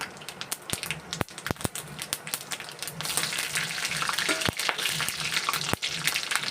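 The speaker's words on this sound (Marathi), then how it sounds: "एक चम्मच चांगली मोहरी तडतडली" Mustard seeds pop and splutter in hot oil: sharp, irregular crackles over a steady sizzle, close up and moderately loud.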